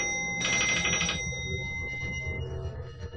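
An electronic telephone bell rings once in a bright, buzzing burst, then fades into a low murmur of background hum.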